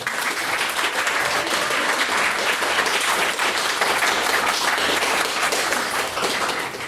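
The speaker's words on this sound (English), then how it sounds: "if you could please get another round of applause for all of our lovely speakers" A debate audience gives its speakers a sustained round of applause. The clapping is loud and dense and stays even from start to finish, with no voices over it.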